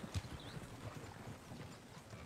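Horses clip-clopping with hooves on ground in the Western video game Red Dead Redemption 2, a steady rapid patter of hoofbeats close by, with a brief whinny-like sound near the start.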